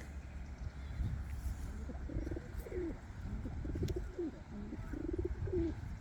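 Rock pigeons coo in a repeated rhythmic series of soft, low calls, close but quiet over a steady background hum.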